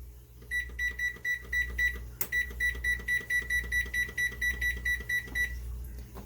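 An oven timer being set for baking beeps in a rapid, steady run of short high electronic tones, close and clear, with a brief click partway through.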